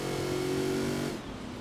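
A car cruises along a motorway in the video game Forza Horizon 4, its engine holding a steady, close droning tone that eases off slightly near the end of the short stretch.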